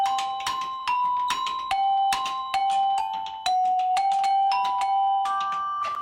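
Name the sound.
carillon practice console hitting bars and tubes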